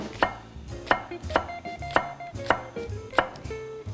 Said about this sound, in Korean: 대파는 그냥 송송 써시면 돼요.